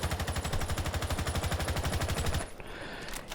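Rapid automatic gunfire from an operator's weapon in the video game Rainbow Six Siege, a fast, even burst of close, loud shots lasting about two and a half seconds before cutting off into quieter game ambience.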